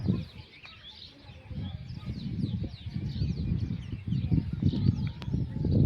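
Scattered high chirps and squawks of parrots perched in a line on a wire, over a low rumbling background with muffled voices and movement nearby.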